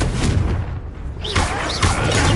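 A Confringo fire spell blasts in the Hogwarts Legacy video game, a loud, dense booming explosion with rumbling impacts that fill the whole moment.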